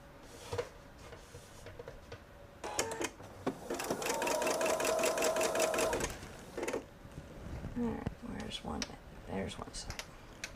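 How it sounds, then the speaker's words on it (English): A sewing machine stitching quilt pieces runs in a steady rapid burst for about two seconds, with shorter starts and stops around it and some quiet handling noise. "sewing machine to stitch"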